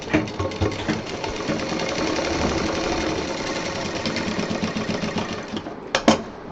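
A sewing machine runs steadily, stitching piping onto fabric for a DIY designer bottle case, a close, busy mechanical whir with a dense rapid needle rhythm that slows with a couple of sharp clacks near the end.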